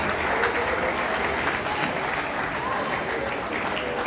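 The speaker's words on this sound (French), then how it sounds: "Les deux équipes, on les applaudit bien fort" An audience at a French national championship match applauds both teams, a sustained, fairly close wash of clapping that continues steadily from start to finish.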